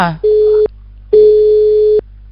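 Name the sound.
telephone busy signal on a radio call-in line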